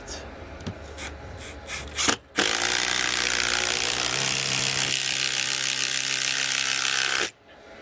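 A ratchet wrench drives a bolt into a heat pump mounting bracket, a few quick clicks first, then a long steady run of fast ratcheting, loud and close, cutting off abruptly.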